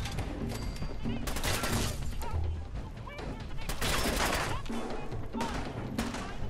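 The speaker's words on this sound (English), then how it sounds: "Am I getting shot at? Why am I getting shot at?" Gunfire from the Fallout video game, a run of shots and bursts in rapid clusters across the clip, fairly loud, mixed with game effects and a voice talking over it.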